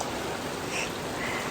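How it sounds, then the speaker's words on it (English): Steady rain drumming on a roof, a dense even patter filling the short stretch with no voices. "I don't know if you can hear me over the sound of the rain on the roof."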